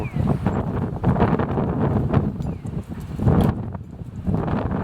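Cold wind gusting outdoors in Kitakyushu at the northern tip of Kyushu, Japan, buffeting the microphone with loud, continuous low rumbling that swells and eases in waves throughout.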